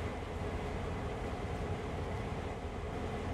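A freight train on the Oakville Subdivision in Train Sim World 2020 rolls through a station, a steady low rumble and broadband wheel noise holding at an even, moderate level throughout.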